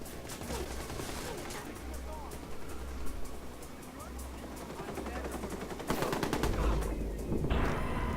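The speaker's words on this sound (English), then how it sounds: "The cops are here and they're shooting at me." Police gunfire erupts in the video game Watch Dogs: Bad Blood, with repeated bursts of shots and rapid fire over a steady din of game action, growing louder toward the end.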